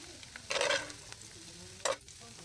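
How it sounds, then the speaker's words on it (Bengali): Meat marinated in advance is added to oil left over from frying eggs, giving a short burst of sizzling and stirring, a brief quiet, then a second sharp hiss of frying close by with no talk. "তো এখানে এই ডিমের তেলের মধ্যেই আগে থেকে ম্যারিনেট করা মাংসটা দিয়ে দেবো।"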